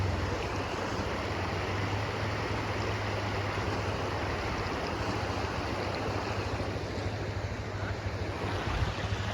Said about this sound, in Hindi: पूरा रास्ता जो है पानी पर पानी, पूरा पानी और पानी हो गया गाइस।